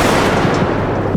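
A compact SG9X gun firing in the video game Bodycam: a short, loud, dense burst of rapid gunshots heard close, with no pause between reports and no talk.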